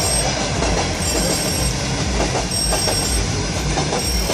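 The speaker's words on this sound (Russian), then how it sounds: "О, пустые вагоны едут." Empty railway freight cars rolling past close by, a steady loud rumble with rhythmic clacking of wheels over rail joints.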